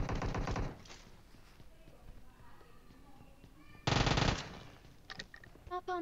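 Shotgun fire in PUBG Mobile comes in two loud, close blasts separated by a quieter stretch, followed by a few short sharp clicks and game sounds.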